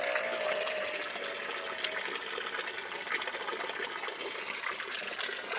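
Small water pump pushing a strong flow through a roughly six-foot tube, giving a continuous, even rushing and gurgling wash of water, close and steady with no talk.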